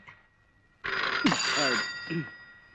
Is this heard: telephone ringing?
yes